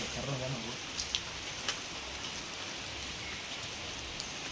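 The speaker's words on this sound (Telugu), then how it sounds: "ఇంకా వర్షం అయితే అలానే ఉంది" Rain pours steadily at the stone temple of Komuravelli Mallanna Swamy, a dense even patter broken by a few sharper drips landing close by.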